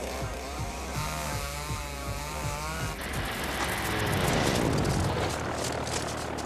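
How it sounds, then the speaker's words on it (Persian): A chainsaw cuts into a block of ice, its engine droning steadily and then rising into a harsher, louder grinding roar as the teeth bite in, with no voices. "سرعت دندانه‌های اره 11500 دور در دقیقه است."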